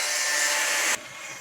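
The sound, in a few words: house construction noise nearby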